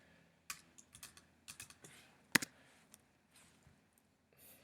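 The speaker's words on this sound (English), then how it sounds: "So I'll just take a random date and I'll type correctly." A date being typed on a computer keyboard while scoring a Conners 3 assessment: a run of quiet, irregular key clicks with one sharper, louder tap near the middle, in a still room with no talking.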